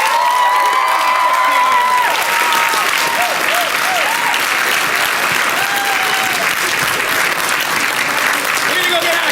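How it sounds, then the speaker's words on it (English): A large audience at a school musical performance gives sustained loud applause with cheers and whoops, and children's voices shout over the clapping, which stays dense and even throughout. "Can we get one more giant round of applause?"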